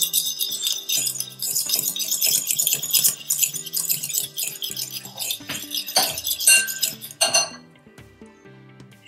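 Donut batter with egg whisked in a bowl, steady metallic clinking and scraping of a utensil against the dish in a fast continuous rhythm, close and fairly loud with no voices.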